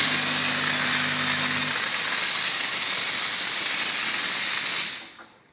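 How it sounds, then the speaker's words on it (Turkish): Loud, steady steam hiss from the wand of an Ascaso espresso machine just back from repair, blowing continuously with a low hum early on before cutting off abruptly near the end. "Buharımız gelmiyordu. Buharımızı ayarladık."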